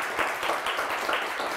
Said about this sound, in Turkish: Bakmayın onlar alkışladı diye.